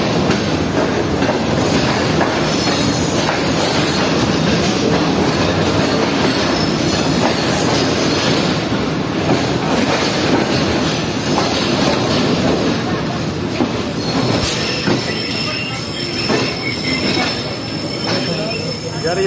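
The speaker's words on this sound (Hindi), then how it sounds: "तो सिर्फ 2 मिनट रुकने के बाद ट्रेन हमारी जो है वो 10:34 पर डिपार्ट कर रही है नवाबशाह रेलवे स्टेशन से" Tezgam passenger train pulling out of Nawabshah railway station, loud and close, with steady rumbling, wheel squeal and clickety-clack over a continuous roar.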